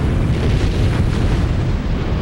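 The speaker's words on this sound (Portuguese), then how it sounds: "Quando a arma é detonada," An atomic bomb detonation, as in the Hiroshima attack, heard as a loud, sustained, low roaring blast rumble that fills the whole moment with no voices.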